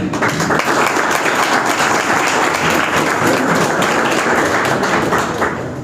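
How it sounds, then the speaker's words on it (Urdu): Loud, dense applause from a crowd welcoming guests at a school and college ceremony, continuous clapping at close range that tapers slightly at the end. "آپ سب لوگ ان کے لیے تالیاں بجاتے ہیں"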